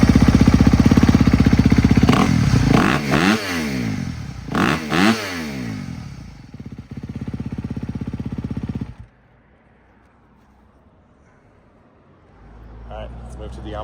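A stock-exhaust Honda CRF250FX motorcycle on a rotor stand, revving loud and close in several rising and falling bursts, then dropping away to near quiet before a faint return.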